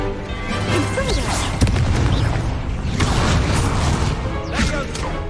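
Confringo spells explode in Hogwarts Legacy combat, with booming blasts and crashing impacts layered over a loud, dense battle din with repeated bursts.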